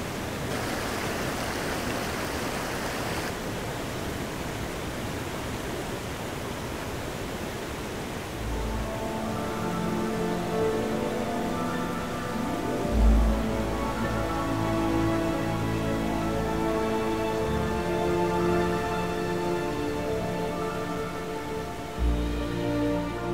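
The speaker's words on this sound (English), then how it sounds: "waterfalls feed into the Sarka River." Glacial meltwater waterfalls feeding the Sarka River rush in a continuous broad roar, with tonal music rising beneath the steady water noise partway through.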